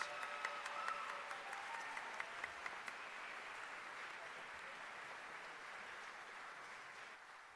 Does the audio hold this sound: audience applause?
yes